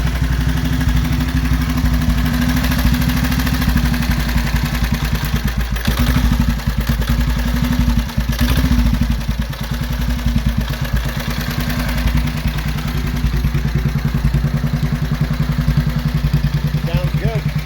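A custom motorcycle with chromed rims runs steadily for a long stretch, a loud close engine drone with a low, even throb, while people talk throughout.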